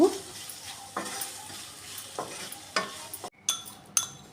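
Gongura flower pods and other chutney ingredients cook in oil over a low flame, with soft intermittent sizzling and a string of spoon scrapes against the pan at irregular intervals. No one speaks.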